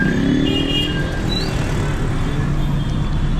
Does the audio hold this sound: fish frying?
no